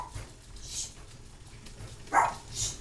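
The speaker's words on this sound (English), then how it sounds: "Uh-oh, dogs." Dogs bark faintly in a home kitchen, a few scattered yips and barks coming from a distance over a quiet room.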